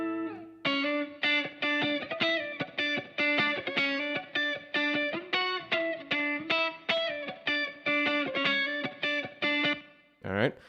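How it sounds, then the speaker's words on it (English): Clean, funky electric guitar with reverb and delay, rhythmic staccato chords strummed in a steady repeating pattern with a spacious tail, played alone and up close. "a little reverb and delay go a long way to thickening it up"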